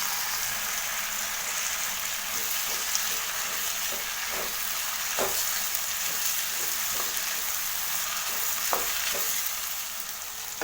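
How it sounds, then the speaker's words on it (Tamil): Chopped onions and tomatoes sautéing in a pan for beef curry, a steady close sizzle and crackle throughout with occasional soft scrapes and taps of stirring. "இதையும் நல்லா வதக்கி எடுத்துக்கோங்க."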